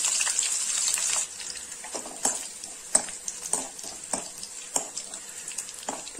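Curry leaves with mustard seeds frying in hot oil: a steady hiss at first, then it settles into a quieter crackle broken by sharp, scattered pops and spatters.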